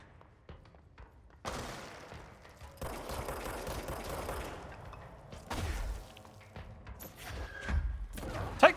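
Sniper rifle gunfire in the video game Control, several sharp, heavy shots with crashing impacts and mechanical clatter spaced across the stretch, fairly loud against a quiet background.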